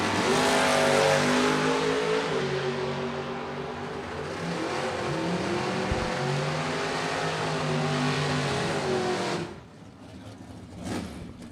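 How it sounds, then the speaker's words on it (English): Drag racing cars, a wheel-standing Chevrolet Blazer and a Camaro, roar loudly down the strip with sustained, rising engine tones for several seconds before the noise drops away abruptly near the end. "That is a wheel standing extreme blazer, and it really is extreme. West Washington on the right side. In the Camaro"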